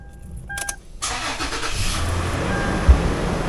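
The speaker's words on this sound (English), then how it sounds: "Now we're coming into the vehicle and we're going to start it up" A Toyota 4Runner engine cranks briefly and catches, followed by a steady idle rumble heard from inside the vehicle, close and fairly loud with no talking.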